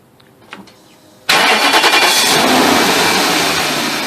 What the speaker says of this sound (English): So let me go and start the car.